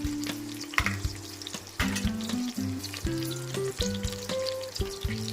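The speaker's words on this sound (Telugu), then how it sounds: "ఒక 1/2 spoon అల్లం పేస్ట్ వేసాను. బాగా కలిపేసింది." Ginger paste frying in a pan with garlic for garlic rice, a soft close sizzle with bursts of stirring and scraping and several steady tonal hums layered underneath.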